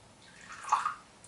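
Hot water poured into a thick matcha paste of Uji Saemidori tea during a tea ceremony, a soft brief trickle and splash building to a short peak, quiet and close.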